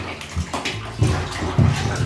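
A kitten being bathed in a deep bath of water to get rid of fleas: water sloshes and splashes in short bursts, close by, with a couple of louder pours of water.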